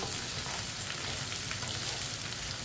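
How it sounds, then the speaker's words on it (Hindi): Okra is stir-fried and browned in a pan while a spoon keeps it moving, giving a steady, fairly quiet sizzle with soft stirring scrapes throughout. "इसे ऐसे ही चम्मच चलाते हुए ब्राउन करना है"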